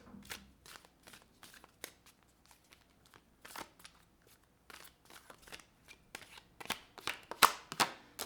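Tarot cards are shuffled and drawn in a run of crisp riffles, snaps and flicks that grow louder and busier toward the end, close and with no voices.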